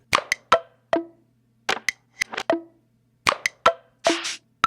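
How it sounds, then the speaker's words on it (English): A dry boom bap percussion loop of sharp, popping hits in a quick, syncopated pattern, with pauses between short bursts and no voices. "Let's look for like a percussion loop."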